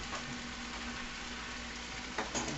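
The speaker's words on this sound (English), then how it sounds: "we're also going to pour in 1/2 cup of milk." Sustained frying sizzle from a meatball stroganoff pan as milk is poured in, a steady dense hiss with a couple of brief spattering bursts near the end; no talking.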